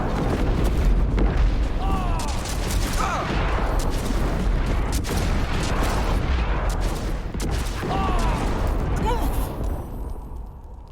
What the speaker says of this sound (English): Dude, how long does this keep exploding?